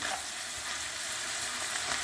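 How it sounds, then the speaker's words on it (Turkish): Minced meat fries in a pan with a dense, steady sizzle, close and even throughout, with no voices. "Şimdi kıymamız kavruldu."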